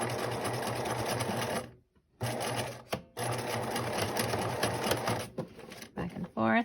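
A sewing machine stitches elastic onto a fabric face mask meant to cover an N95, running in rapid bursts that halt twice briefly before a final stop and a few handling sounds.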